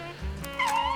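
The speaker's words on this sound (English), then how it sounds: "Is that dog is coming from this game, isn't it?" Dog in the video game Fallout: New Vegas, Old World Blues, giving a short whining yelp or bark, a single brief sound rising over a low steady game background.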